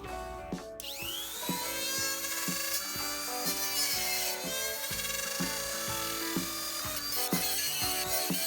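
A high whining Dremel rotary tool grinds at a rusty bolt head on a Porsche 924/944, a steady close buzz broken by repeated pitch dips as the cutting wheel bites and catches.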